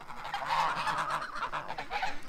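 A flock of geese honks steadily and close by, overlapping calls filling the whole stretch with no talking over them.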